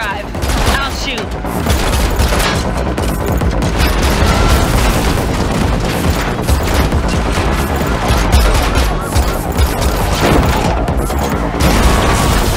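Gunfire in The Matrix Awakens rings out in heavy, sustained volleys with booms and crashes during a car chase, loud and unbroken throughout, with voices faintly underneath.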